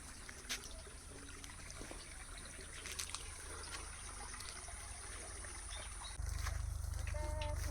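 A small stream running low after little rain trickles steadily in the Konkan countryside, a soft continuous wash of water with faint splashes, growing slightly louder near the end.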